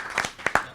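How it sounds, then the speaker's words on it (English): Short burst of audience clapping at a board of directors meeting, a few loose, scattered claps over less than a second. "Everybody should give them a round of applause"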